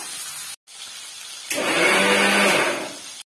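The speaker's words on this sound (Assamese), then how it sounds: "এইটো এটা পেষ্ট কৰি লওঁ" A kitchen mixer grinds onion, ginger and chili into a paste, a loud steady whirring burst lasting under two seconds, preceded by quieter handling noise.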